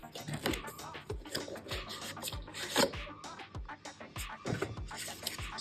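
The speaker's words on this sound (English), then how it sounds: "So let's unbox, guys. Just crack open." The cardboard box packaging of OnePlus Nord Buds 3 earbuds is opened up close, with repeated rubbing, scraping and tearing sounds as the flaps and contents are handled, fairly quiet and without talk.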